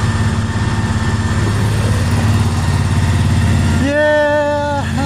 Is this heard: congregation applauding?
no